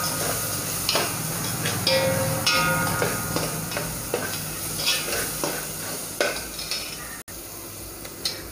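Spices such as red chilli powder and coriander powder sautéing in a pan for masoor pulao, a loud close sizzle broken by repeated scraping stirs and spoon taps against the pan.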